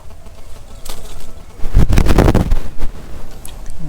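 Pigeons at a village bird market, a close burst of flapping wings with scattered rustling and soft bird sounds around it.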